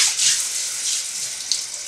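A kitchen tap with a shower setting runs water in a steady, close hiss and splash, constant throughout with slight surges and no voices.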